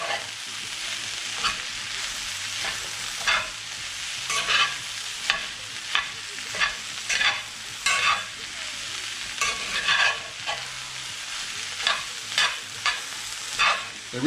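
Maque choux being stirred in a frying pan, a soft continuous sizzle broken by repeated scraping strokes of a utensil at an uneven rhythm, close and moderately loud.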